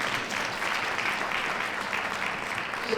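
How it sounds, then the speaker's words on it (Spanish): Audience at a women-in-power forum panel applauding, a steady, dense wash of clapping throughout at moderate level, no voices over it. "un aplauso por favor también"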